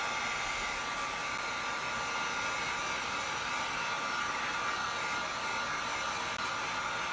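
A hair dryer blows steadily on a painted cloche saucer, giving a constant close whirring hiss that runs unbroken and alone.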